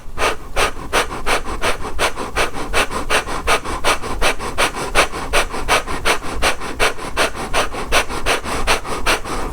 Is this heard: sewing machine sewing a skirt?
no